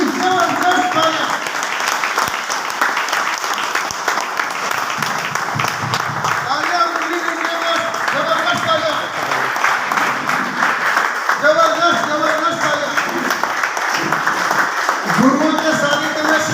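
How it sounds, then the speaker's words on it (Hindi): Sustained audience applause in a seminar hall, dense and steady throughout, with a voice calling out and talking over the clapping. "जबरदस्त तालियां।"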